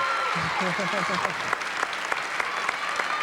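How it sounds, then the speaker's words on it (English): Applause rolls through a girls' high school basketball crowd at home, a steady wash of clapping that swells after a voice speaks over its opening, with scattered sharper claps standing out. "We should stand up and clap"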